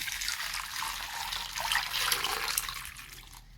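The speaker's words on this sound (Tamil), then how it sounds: "தண்ணி ஊற்றிக்கணும்." Water poured into a cooking pot for boiling sweet corn, a steady splashing, gurgling stream heard close up and fairly quiet, with no voices.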